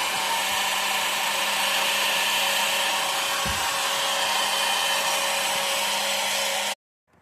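A heat gun blows a continuous, loud, steady whoosh while shrinking solder heat-shrink connectors on truck headlight sensor wiring, running unbroken until it switches off abruptly near the end.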